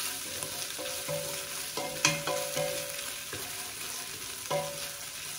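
Meat, onions and bay leaves fry for a Caribbean okra soup, a low steady sizzle punctuated by rhythmic spatula scrapes and occasional metallic clinks against the pot, close and without voices.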